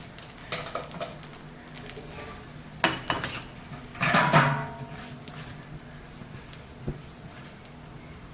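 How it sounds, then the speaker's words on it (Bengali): Eggplant pieces drop into water in a metal cooking pot, with clattering knocks and a louder splashy clank midway over a faint background hiss. Nobody speaks. "এবার এই বেগুনগুলো এই জলের মধ্যে দিয়ে দেবো"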